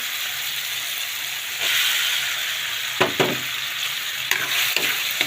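Shrimp and pechay sizzle loudly in a hot pan, a steady frying hiss that swells partway through, with a few sharp scraping clacks of a utensil stirring the mix.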